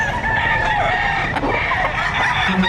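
Chickens and roosters crowd a livestock auction market, with a rooster crowing and steady clucking from many birds over loud continuous crowd noise.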